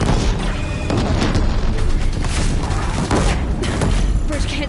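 In the video game Horizon Zero Dawn, Deathbringer machines fire on a bridge, and the explosions merge into a loud, continuous booming barrage with rumbling impacts and mechanical clatter, dense and unbroken for nearly five seconds.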